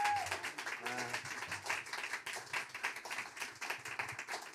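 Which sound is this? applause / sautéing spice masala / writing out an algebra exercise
applause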